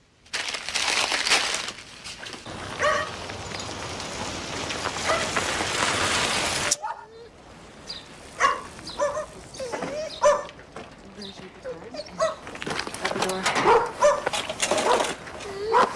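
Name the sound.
dog barking and whimpering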